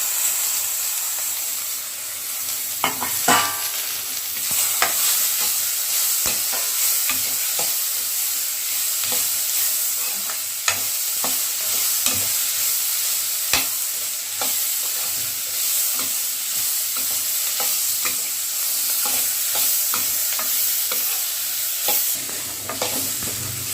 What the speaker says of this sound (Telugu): ఫైనల్గా టమోటా యాడ్ చేసుకోవాలి. అన్నీ ఫ్రై చేసుకోవాలి బాగా.